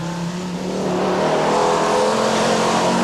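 Four-wheel drive rally car at the 1985 Hellendoorn Rally, engine droning steadily and building slightly as it drives hard, with no voices.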